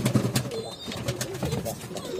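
Pigeons in a loft coo softly and repeatedly close by, with some rustling movement, while a person talks over them.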